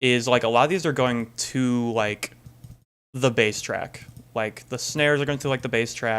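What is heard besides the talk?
No distinct noise like a dog, phone or traffic.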